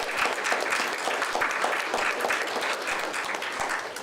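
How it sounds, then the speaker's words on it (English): Round of applause for volunteers at a recognition breakfast, a sustained patter of many hands clapping in a large room, moderately loud and continuous. "We can thank them now with a round of applause."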